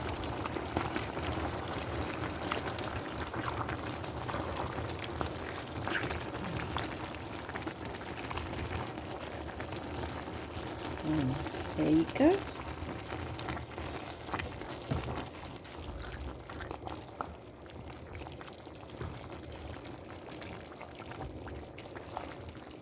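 Pan contents being poured into a pot of simmering collard greens: a soft liquid pour and splash near the middle, surrounded by low bubbling and kitchen handling noise, with a brief spoken remark.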